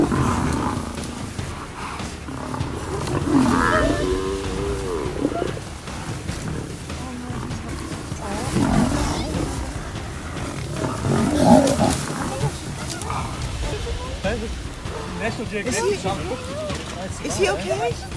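A lion roars while attacking a buffalo calf, with deep rumbling growls and roars rising and falling across the stretch alongside the herd's commotion; a person talks over much of it.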